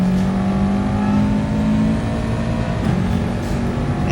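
A race car engine in a racing video game drones loudly and steadily as it accelerates out of a turn, with a sustained hum and no break over several seconds.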